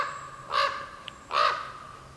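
A raven gives two harsh, croaking caws about a second apart, moderately distant outdoors over a quiet background.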